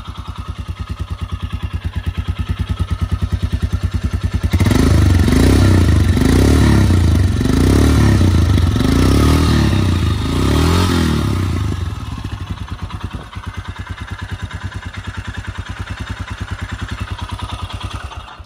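A Royal Enfield Himalayan motorcycle starts up close by, rising into a louder, clattering burst before settling into a steady, rhythmic single-cylinder idle, with no talk.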